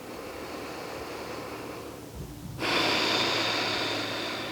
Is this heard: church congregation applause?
no